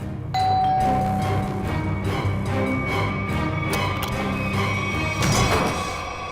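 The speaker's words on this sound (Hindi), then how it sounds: "कौन डोरबेल बजा रहा है इतनी रात गए?" A doorbell chimes with a sustained ringing tone, followed by further chime notes over a busy, tense background of room noise and music.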